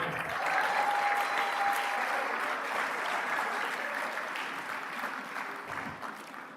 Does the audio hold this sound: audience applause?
yes